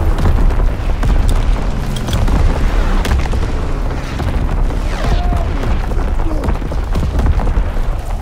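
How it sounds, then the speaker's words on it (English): Artillery battery firing in the World War II shooter game Call of Duty WWII, a continuous dense barrage of booming blasts and explosions rumbling loudly throughout with sharp cracks layered over the din. "Firing primary battery."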